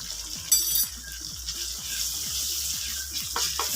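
Tomato with ginger-garlic paste fries in a pot with a steady, close sizzle, broken by spoon-stirring scrapes and clinks. No one speaks.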